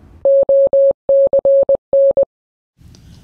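A VOR navigation station's Morse code identifier plays over an aircraft radio as a loud, steady tone keyed in short and long beeps, three groups in quick succession, followed by faint static.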